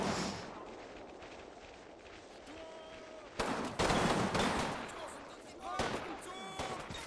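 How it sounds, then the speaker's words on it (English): Point-blank gunfire exchanged through building windows in the Combat Mission: Final Blitzkrieg war game, a quiet stretch of low rumble giving way to loud crackling bursts of rifle and machine-gun fire in the second half. "point blank, shooting through the windows at each other"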